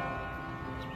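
Sustained ringing tones of a curfew bell, steady and resonant, with overlapping harmonics lingering throughout the brief moment.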